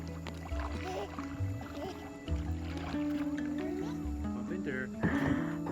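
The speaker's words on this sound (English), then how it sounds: "Dad's teaching her how to paddle." Paddle strokes from a canoe on calm water, soft and fairly distant, with people talking over a steady outdoor background.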